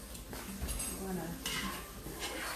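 Vegetables for a Cajun crawfish fettuccine are stirred in a pan with a utensil, giving a few light clinks and scrapes against the metal over a soft, steady kitchen background.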